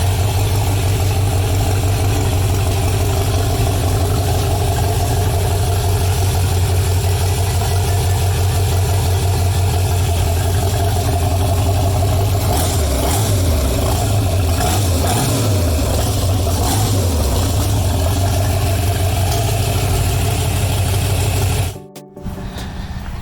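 A rebuilt Mercruiser 5.7L boat engine runs on a test, a steady, close, loud low idle with a brief rise in revs midway before it cuts off abruptly near the end.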